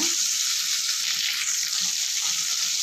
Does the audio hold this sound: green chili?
yes